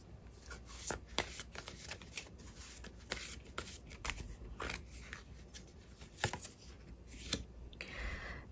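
Tarot cards are shuffled quietly and steadily nearby, giving a soft, continuous riffling with frequent small taps and flicks and no voices.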